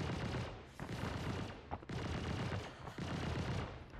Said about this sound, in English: It's the turret firing at the jump and the freelancer.